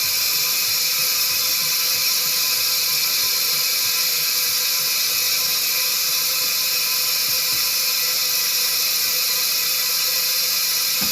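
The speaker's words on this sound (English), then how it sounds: "we're going to use the back gauge which says evacuate on, and we're going to evacuate the tires" Racing Air Products nitrogen tire inflation system evacuating air from tires, a continuous high-pitched mechanical whine and hiss that holds steady throughout with no talk.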